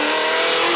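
A drift car's engine revs hard in a brief, loud, sustained burst, a steady high-pitched roar close by with no pause.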